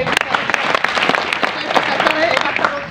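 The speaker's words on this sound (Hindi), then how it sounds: "अभी दिनेश भाई के लिए जोरदार तालियां" Dense, steady applause from a crowd, many hands clapping continuously at a fairly loud level throughout.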